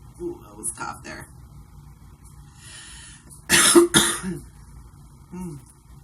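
A person smoking Special Blend 100 cigarettes coughs and clears their throat: a few short throat clears early on, then one loud, harsh burst of coughing in the middle, followed by a smaller cough near the end.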